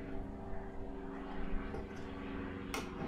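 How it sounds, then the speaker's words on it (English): Propeller airplanes drone steadily overhead near an outdoor woodworking spot, a low continuous hum that lingers for a few seconds with a short sharp knock near the end. "Got some airplanes going by."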